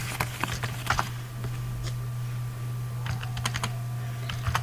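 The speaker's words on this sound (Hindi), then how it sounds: "दूसरा रोल नंबर टाइप करते हैं हम" Roll numbers are typed on a computer keyboard during a Microsoft Access student marks sheet entry, producing clusters of quick key clicks over a steady low hum, with no one speaking.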